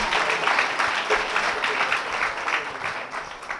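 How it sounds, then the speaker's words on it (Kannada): A congregation at a New Year night of prayer and worship bursts into sustained, fairly close applause, a dense clapping wash that swells and then gradually thins out. "ಅವ್ರಿಗೂ ನಾವು ಜೋರಾಗಿ ಚಪ್ಪಾಳೆ ಹೊಡೆದು."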